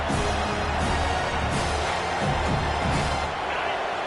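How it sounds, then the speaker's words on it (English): Stadium crowd roar from a Madden football video game, a steady, dense wash of noise throughout with faint swells, as the crowd pressures the offense after an incompletion. "This crowd trying to make life miserable for this offense."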